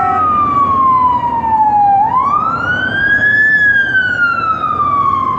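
A loud wailing ambulance siren sweeps down then back up in pitch, close by over a low rumble of traffic in Mexico City after an earthquake, no one speaking.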